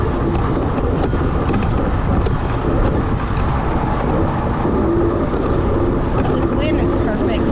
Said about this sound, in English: This wind is perfect.